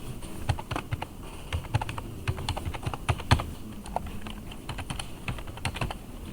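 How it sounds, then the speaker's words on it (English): A computer keyboard clicks close by in a quick, irregular run of sharp keystrokes, each a crisp tap, with short gaps between bursts. "Press the number lock on and off."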